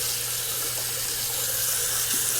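Water runs briefly from a tap into a sink while shaving soap is lathered for a double-edge safety razor shave, a steady close hiss with no voices.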